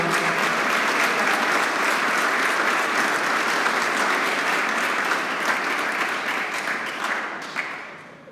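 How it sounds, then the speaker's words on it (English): A banquet crowd applauds steadily and loudly for several seconds at a hall of fame ceremony, the clapping thinning slightly toward the end with no voices on top. "get a round of applause"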